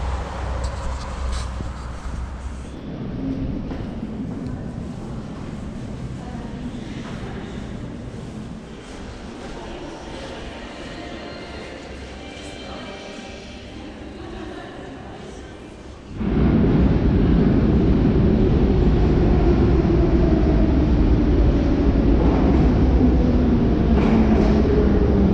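A Minsk Metro train rumbles along with steady broadband roar, quieter at first, then abruptly louder and denser as the carriage speeds through the tunnel, continuous for the whole span.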